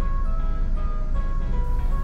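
A single steady electronic beep from a driving-test car after crossing the start line on a Korean Class 2 licence course, held as a sustained tone over low engine rumble for about two seconds.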